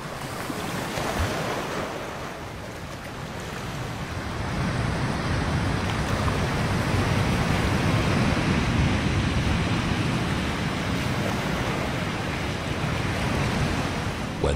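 Rough sea waves surge and crash in a continuous, powerful wash, building louder after a few seconds and mixed with gusty wind buffeting nearby.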